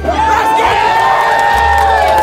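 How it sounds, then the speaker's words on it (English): A loud crowd cheers and applauds in a steady roar, with shouts and whoops rising over it the whole time. "They're cheering. They're applauding."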